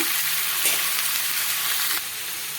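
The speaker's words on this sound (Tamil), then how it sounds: "இது ஒரு 2 நிமிஷம் வதங்கட்டும்." Tomatoes for coconut-tomato chutney sauté in a pan with a close, steady bright sizzle and a brief stir midway, the frying hiss softening slightly near the end.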